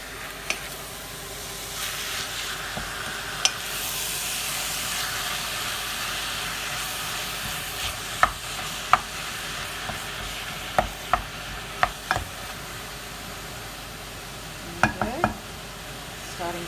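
Minced beef for bolognese browning in a pan, a constant close sizzle and hiss with scattered sharp spoon taps and scrapes, several clustered near the end, no talk.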